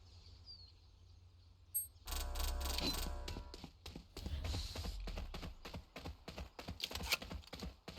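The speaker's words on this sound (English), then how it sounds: "Let me hear the footsteps." Footsteps and gear clicks in a tactical shooter round with the spike planted, a quiet lull that breaks into a dense run of sharp rapid taps and clacks, close and fairly loud, with no voices.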